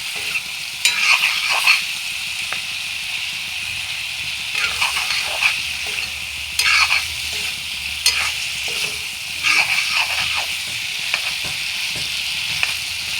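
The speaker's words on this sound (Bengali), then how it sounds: "ভালো করে একটু ভাজা হয়ে যাবে একসঙ্গে" Dried fish (shutki) fries in a pan as a spoon stirs it, giving a constant close sizzle with repeated scraping and tossing strokes every second or two, and no speech over it.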